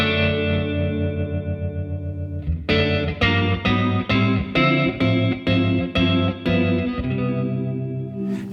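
An electric guitar chord pulses in a steady, rhythmic tremolo from a Catalinbread Tremolo8 pedal, the volume chopping on and off repeatedly after a sustained opening chord.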